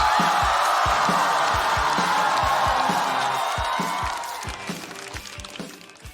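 A studio audience at a stand-up comedy show applauds and cheers loudly as a comedian is introduced, dense clapping with a rhythmic music beat underneath, the applause thinning toward the end.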